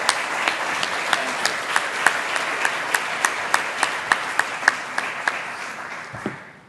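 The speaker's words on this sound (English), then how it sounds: "Let's give them a round of applause" Applause from an audience at a committee meeting, a steady wash of many hands clapping with a few sharp, louder claps standing out, lasting several seconds before tapering off.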